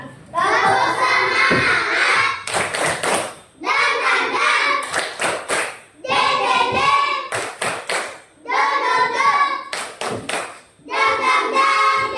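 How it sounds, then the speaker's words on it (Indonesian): Schoolchildren in a classroom perform a rhythmic spirit clap: loud group chanting alternates with sharp bursts of quick, patterned hand claps, repeating several times. "Coba tepuk semangat dulu."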